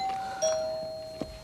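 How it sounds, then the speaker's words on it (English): Doorbell ringing indoors, a clear sustained two-tone chime followed by faint knocks, with no talking. "And the doorbell rings."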